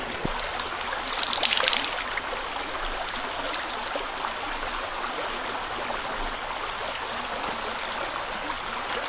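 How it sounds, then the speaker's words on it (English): A woodland stream flows steadily near an overnight base camp, a continuous close rushing and trickling wash of water with a brief louder splash early on, no talking. "I'm at the stream."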